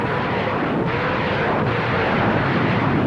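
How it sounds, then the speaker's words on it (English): Battery of World War II Nebelwerfer rocket launchers with tubes mounted on a light trailer, firing rockets electrically, heard as a dense, loud, continuous roaring rush without distinct breaks. "The rockets were fired by electrical impulses, and a whole battery could be launched simultaneously."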